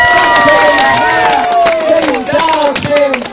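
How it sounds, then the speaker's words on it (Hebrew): An audience applauds at a Renaissance festival at Yehiam Fortress, with dense loud clapping and cheering close by and voices mixed into the crowd. "איפה מחיאות הכפיים?"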